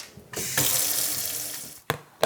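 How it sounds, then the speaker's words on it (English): Hands are washed under a running sink tap before salt-curing venison: a steady, close splash of water for about a second and a half, broken by short bursts as the hands move in and out of the stream, no talking. "Wash my hands first."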